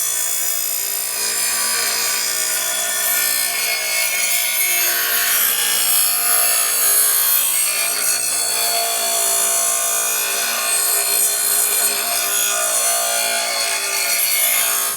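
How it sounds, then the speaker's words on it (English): A bench grinder wheel sharpens a Sears Craftsman lawn mower blade, producing a continuous loud, hissing grind that holds steady throughout, with no talking. "I'm going to take the blade, run it right along the edge of this grinding wheel, and I shape it just like it is now."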